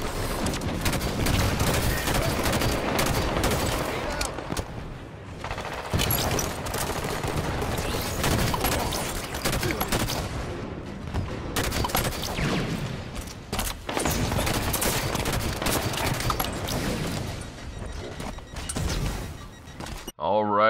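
Gunfire in a video game kill-highlight reel: dense, loud volleys of automatic shots and booms run almost without a break, with brief dips and a voice at times.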